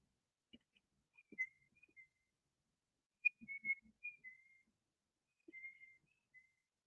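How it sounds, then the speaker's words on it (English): High-pitched whistling in short, separate bursts: a few brief notes, a pause, then a longer run of quick tones and one final sustained note, all heard clearly in a quiet room. "he could hear the high pitched whistle"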